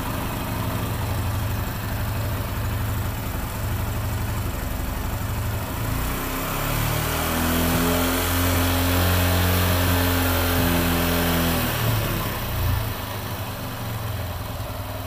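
A 100–150cc motorcycle engine idles steadily, then revs up into a higher, strained drone midway while its air mixture screw is adjusted, before settling back to a lower idle; loud and close, with no voices.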